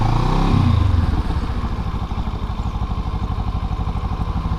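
A motorcycle engine accelerates hard as the bike rides onto a highway, opening with a loud rising rev before settling into a steady, pulsing drone, close and continuous throughout.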